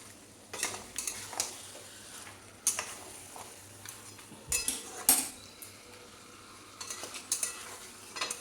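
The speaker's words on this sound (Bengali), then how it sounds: "এবার মাংসটা মশলার সাথে খুব ভালো করে কষতে হবে" Boiled mutton being sautéed with spices in a pan: metal spoon scraping and clinking against the pan in irregular bursts over a soft, continuous sizzle, close by, without speech.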